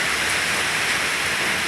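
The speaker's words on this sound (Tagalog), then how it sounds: "Sobrang maulan ngayon" Heavy morning rain pours down, a dense, even hiss of falling water filling the air at steady strength without a break, no voices over it.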